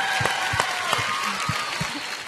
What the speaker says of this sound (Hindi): एक बार जोरदार तालियां हो जाए गाइस।